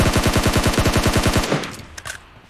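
Rapid automatic gunfire in a shooter video game, a fast even burst of about fifteen loud shots over a second and a half, then a few fainter scattered pops and clatter as it dies away.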